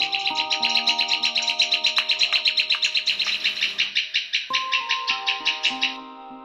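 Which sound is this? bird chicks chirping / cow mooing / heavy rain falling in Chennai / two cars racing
bird chicks chirping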